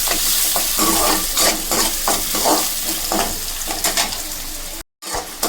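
Onions frying with cumin seeds in a pan, browning for a beans sabzi, give a loud, continuous sizzle with repeated stirring scrapes throughout and a brief dropout near the end.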